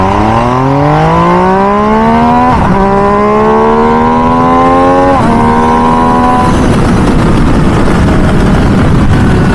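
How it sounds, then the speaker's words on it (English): A 2023 MV Agusta Dragster 800RR with SCS clutch pulls away from a red light uphill. The engine revs rise hard and loud, climbing in pitch through two quick gear changes before settling into a steady drone and road rush. "Essentially, we're just giving it gas and the bike absolutely takes off."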